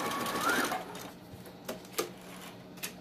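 A sewing machine whirs in a short, quick burst of stitching on baby slippers, then falls quiet apart from a few faint clicks.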